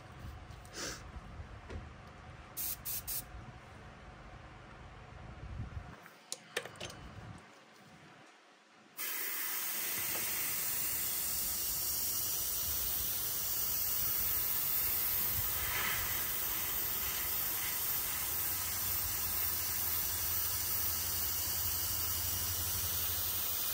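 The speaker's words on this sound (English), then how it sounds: "And we're just going to spray over the top of this." After a few quiet seconds of faint handling noises, a loud, steady aerosol hiss of solvent-based spray paint on a metal fishing spoon lure starts abruptly and continues without a break.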